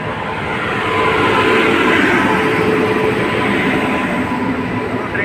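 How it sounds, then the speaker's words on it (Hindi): A passenger train pulls into a station in India on a trip from Kolkata to Delhi, its steady rolling rumble and wheel noise loud and broad throughout, swelling slightly as it approaches, with no talk over it. "ये हमारी ट्रेन एंटर कर रही है।"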